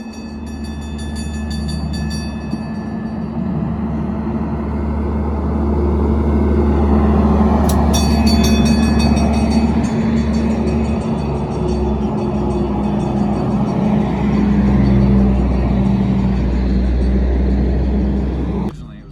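The Pikes Peak cog railway train, a gear-driven rail car at 14,000 feet, approaches with a steady low rumble and mechanical grinding that swells louder, with a brief metallic squeal partway through.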